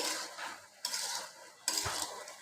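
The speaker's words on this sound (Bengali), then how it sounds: "আলতো হাতে নেড়ে চেড়ে নিচ্ছি" Malabar spinach stems and fish curry gently stirred in a pan, three soft scraping sweeps of a spatula with a light sizzle between, close and quiet.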